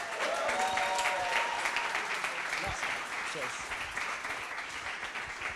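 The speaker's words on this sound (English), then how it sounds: "So round of applause to our final speaker, Bruno." An audience at an evening sales-development talk applauds the final speaker with steady, fairly loud clapping that carries on throughout, a brief voice audible near the start.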